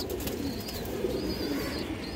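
Pigeons cooing, with low, steady murmuring coos running throughout and faint chirps above them, set among fancy breeds such as dobaz, highflyer and kaldam birds.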